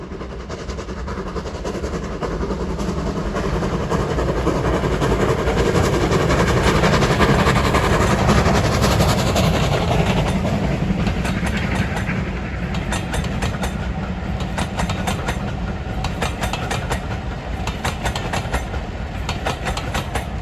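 A steam locomotive, Bahamas, running tender first, hauls a train to Bridgnorth on the Severn Valley Railway on a wet day, rumbling steadily past at close range, with rhythmic clicking of wheels over rail joints and a continuous heavy mechanical roar.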